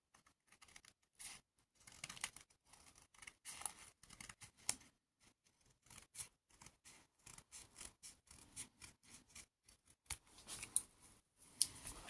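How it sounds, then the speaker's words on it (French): Scissors snipping through scrapbooking paper at a desk, a quiet run of crisp irregular cuts and rustles, close by with no talking. "On fait au ciseau."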